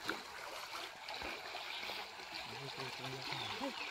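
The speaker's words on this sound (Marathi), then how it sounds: "हे बघा कसा पाणी चाललाय." River water in a Konkan village, deep and cold, rushes steadily throughout in a broad wash, and a voice talks over it near the end.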